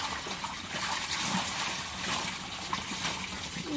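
Water poured into a cooking pot holding fish, koi and small shrimp, a soft continuous gushing splash at moderate distance with faint clatter, no talk.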